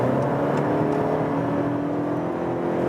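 A Toyota Camry hybrid with a naturally aspirated 2.5-litre engine accelerating, heard as a steady engine drone with road and wind noise from inside the car, holding an even level.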